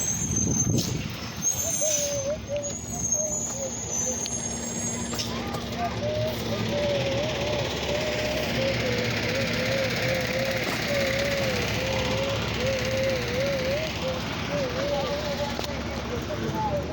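Garbage truck number 51451 running on the street, a continuous loud diesel engine drone with a wavering mechanical whine and occasional hissy bursts throughout.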